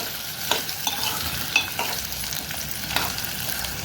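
Mango pieces cook in a pan with a steady hissing sizzle as a spoon stirs them now and then, giving a few distinct scrapes against the pan.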